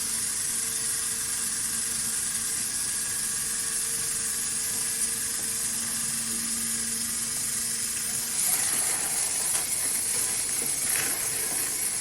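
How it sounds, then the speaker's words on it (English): The outer mining drum of a university-built lunar mining robot rotates backwards through sand-like granular material, a continuous loud hissing mechanical whir with a faint steady hum, roughening and turning more gritty over the last few seconds. "the outer mining drum rotating backwards"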